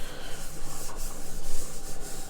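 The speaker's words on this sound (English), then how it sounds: "take a paper towel, a little bit of oil, rub the sides of your bowls down so it doesn't stick while it's fermenting" An oiled paper towel is rubbed around the inside of a dough bowl, giving a steady, close, soft rasping swish that rises and falls with each stroke.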